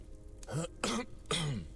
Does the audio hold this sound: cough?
yes